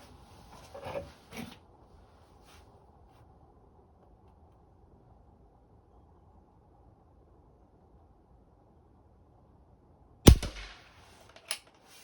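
Shots from a Seneca Dragonfly .177 pump air rifle firing pellets: two sharp cracks near the start, a long quiet gap, then a loud close shot followed by a fainter knock.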